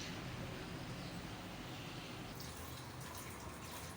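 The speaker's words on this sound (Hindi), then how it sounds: "अब मैं इसको छानूंगी और इसमें से ठंडा पानी गुजार लूँगी।" Cold water poured through a strainer of boiled vermicelli, a steady broadband rush of running water that changes slightly partway through, close and continuous with no talk.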